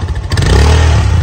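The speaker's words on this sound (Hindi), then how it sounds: "और बाइक अब चलाएगा शेखर" A motorcycle engine revs and pulls away on a cloudy mountain road near Mussoorie, a short loud burst of engine rumble with some clatter, close by and without talk.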